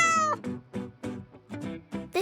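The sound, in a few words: cat meowing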